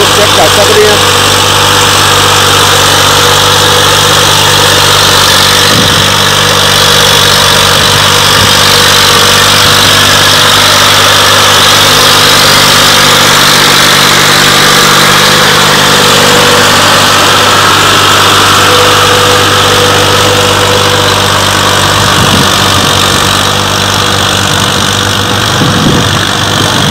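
A Massey Ferguson 240 tractor engine runs steadily at close range while pulling a 7-tine chisel, a loud, constant rumbling drone with faint clanks, and someone talks over it.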